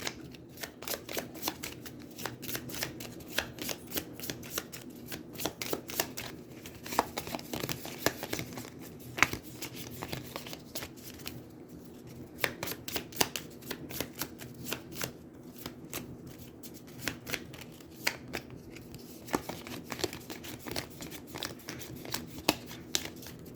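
A deck of cards for the Aeons End board game is shuffled repeatedly, with steady riffling and crisp flutters continuing close by throughout, no voices.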